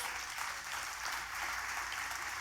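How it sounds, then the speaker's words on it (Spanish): A church congregation applauds during a sermon, a steady, distant-sounding wash of many hands clapping, fairly faint and unbroken. "O dale ese aplauso a Dios"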